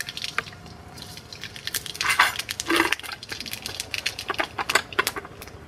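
Dry chillies and black mustard seeds sputter in hot white cooking oil, giving close, irregular pops and crackles with a few louder bursts in the middle, and no one talking.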